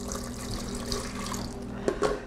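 Water runs steadily into the plastic container of a food steamer being used to cook puto, a close, continuous pouring splash with slight gurgles near the end.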